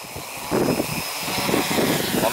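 An APM Copter V3.1 quadcopter holds its position while flying in wind. Its motors give a steady, close whine under a gusty, rushing wind rumble, with no talking.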